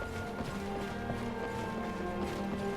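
Horse hooves clip-clopping in a video game, a soft, quick repeated clopping over a busy backdrop of tonal game sound, fairly faint, with no talking.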